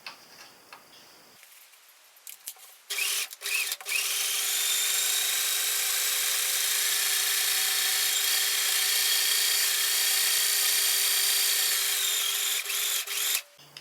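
A sewing machine stitching a camper van curtain runs in one long steady whirring stretch, close and fairly loud, with a couple of clicks just before it starts.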